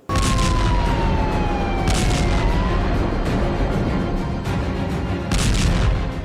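Heavy booms from missile strikes and explosions in Kyiv roll through a loud, dense wash of noise while a siren wails in long falling tones.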